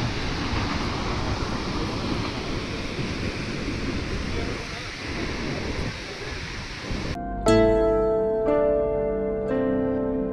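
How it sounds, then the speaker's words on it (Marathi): Lingmala waterfall near Mahabaleshwar roars as a steady, loud, broadband rush for about seven seconds, then music abruptly takes over. "तर हा तो धबधबा आहे बघा"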